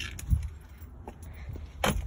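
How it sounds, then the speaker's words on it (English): A set of car keys dropped inside a 2020 Nissan Armada with a leather interior, giving a couple of brief metallic jingles and a soft thud close by, with no one speaking. "Just drop my keys."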